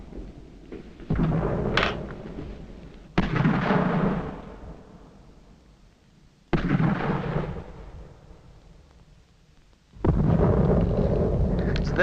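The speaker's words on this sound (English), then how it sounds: "It's them mortar bombs that scare me" Mortar bombs explode during the siege of Fort Stanwix, three loud booming blasts at intervals, each with a sharp onset and a long rolling rumble that slowly fades before the next.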